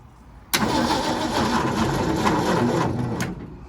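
A 1951 Ford F1 pickup engine cranks on a jump start with a whirring, rhythmic starter motor churn that begins abruptly, runs close and loud for under three seconds, then cuts off.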